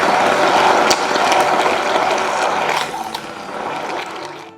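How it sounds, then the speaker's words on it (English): A loud whirring, grinding motor of a stick blender churning a thick cheesecake mixture with caster sugar, steady then easing slightly toward the end. "And I'm going to mix it together with a stick blender."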